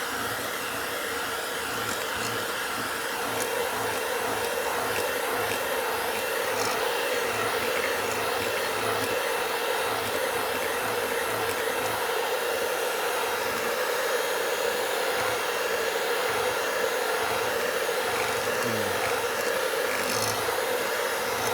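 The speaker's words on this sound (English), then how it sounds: "So I'm still going to whisk it okay, whisk it even more." An electric mixer whisks sugar and eggs with a loud, continuous whirring drone that holds steady throughout, with no voices.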